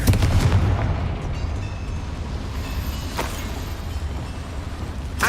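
A Confringo fire spell bursts in Hogwarts Legacy, giving a loud rumbling explosion that hangs on as a sustained roar with a sharp crack partway through, with no one talking.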